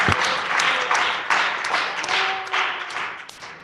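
Audience applause breaks out at a school board of education meeting, a sustained wash of many hands clapping with a few louder close claps, steady throughout.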